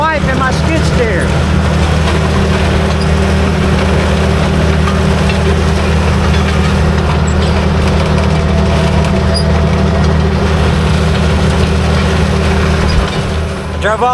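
A skid steer engine runs steadily at a distance, a continuous low rumble with wind noise outdoors, while someone talks over it.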